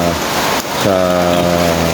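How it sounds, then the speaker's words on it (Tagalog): Steady rain falls outdoors at a duck-raising yard, a dense broadband hiss that carries on throughout, with a voice speaking over it partway through. "umuulan pero sige pa rin"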